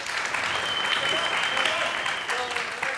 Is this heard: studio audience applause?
yes